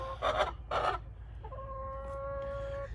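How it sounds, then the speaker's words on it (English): Backyard chickens near a coop cluck: two short, throaty bursts come first, then a steady, drawn-out tonal call over constant low outdoor rumble. "But I got little Rhea outside chilling with the chickens"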